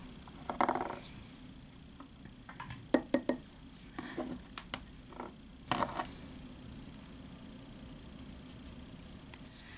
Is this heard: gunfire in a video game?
no